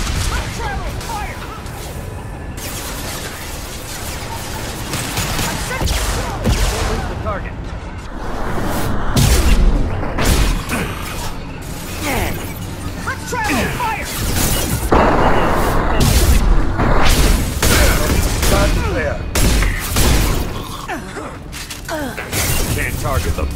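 Dense, chaotic gunfire and bursts from a Mass Effect 2 combat scene, with shotgun blasts, impacts and explosions overlapping continuously at loud levels, and occasional voices mixed in.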